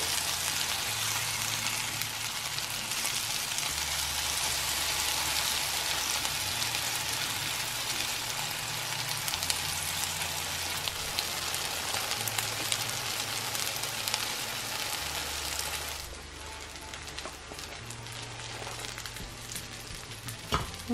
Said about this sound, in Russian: Выкладываю на сковороду и жарю с двух сторон до золотистого